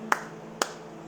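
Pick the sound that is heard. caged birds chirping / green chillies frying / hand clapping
hand clapping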